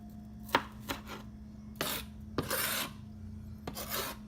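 A knife slicing through very hard, aromatic vegetables for Turkish menemen, several crisp cuts and rasping strokes against a board at an uneven pace, close up with a faint hum behind and no voices.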